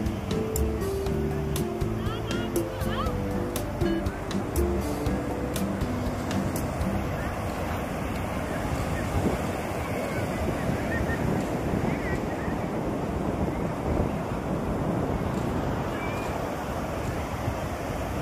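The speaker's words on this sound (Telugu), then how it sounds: "ఇప్పుడే కొద్ది కొద్దిగా అలలు ప్రశాంతంగా వస్తున్నాయి" Soft ocean waves wash in at Kakinada beach after a cyclone with a steady roar, mixed with gusty wind buffeting the microphone; a few faint clicks early on.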